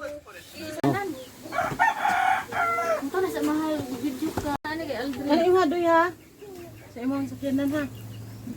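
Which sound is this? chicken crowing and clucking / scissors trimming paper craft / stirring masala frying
chicken crowing and clucking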